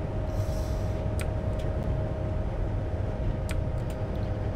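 A Class 390 Heathrow Express train running in Train Simulator 2014, heard from the cab as a steady loud rumble with a constant tonal whine and a few faint clicks over the top.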